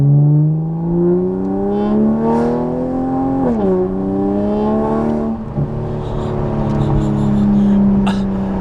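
A 2020+ Toyota Supra's ETS 4-inch Extreme Pro Series exhaust roars loudly as the engine revs up and down, pitch climbing, dipping sharply, then holding high.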